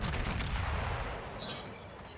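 Battleship broadside gunfire in a naval warship game, heard as a heavy rumbling boom that fills the start and slowly fades into a low, continuous roar, fairly quiet overall.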